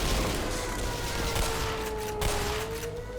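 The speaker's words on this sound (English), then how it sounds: "First, we're going to shoot these guys." Gunfire in the Black Mesa video game: a dense, continuous fusillade of rapid shots with a steady mechanical whine running under it, loud and busy throughout.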